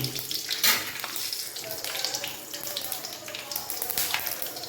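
Mustard seeds and whole garlic cloves fry in hot oil, a close crackling sizzle with sharp popping spurts throughout, joined by occasional stirring.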